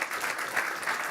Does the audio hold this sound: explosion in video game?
no